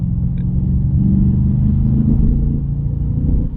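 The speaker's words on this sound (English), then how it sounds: "This has got to be the best sounding car I have ever owned." The 4.2-litre V8 of an Audi S5 rumbles steadily at close range, a deep, continuous, loud engine drone with no voices over it.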